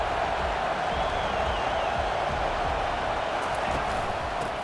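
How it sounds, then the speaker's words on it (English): A stadium crowd roars steadily at an Alabama versus Mississippi State college football game, a dense, unbroken wall of cheering noise heard from within the stands, loud and constant throughout. "Fans are bringing the noise on 1st and goal"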